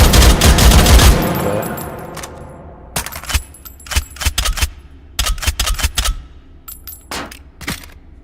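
Shotgun fire: a heavy loud blast opens, decays into echo, then a rapid series of sharp close shots and clicks follows in uneven bursts.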